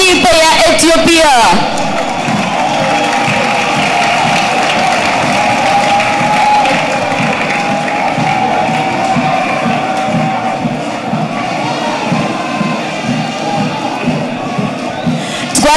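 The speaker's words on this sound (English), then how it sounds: "Let's give them a round of applause." An audience applauds and cheers the Ethiopian teams at the opening parade of police games in Kigali, with sustained clapping, crowd noise and rhythmic thuds that carry on for the whole stretch.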